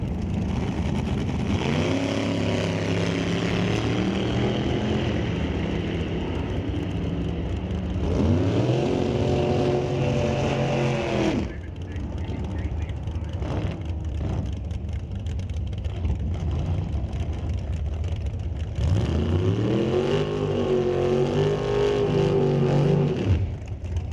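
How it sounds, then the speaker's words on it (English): A 1978 Chevrolet Malibu drag racing car at Mission Raceway Park, engines revving and roaring loudly in repeated rising surges separated by lower rumbling idle, with no talk. "Martin Rochelle in the right lane in the 78 Malibu"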